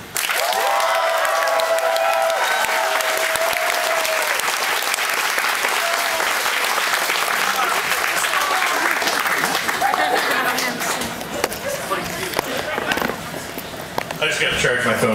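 A concert audience at Melkweg in Amsterdam applauds the performers at a show, loud sustained clapping and crackling hands filling the room, thinning toward the end.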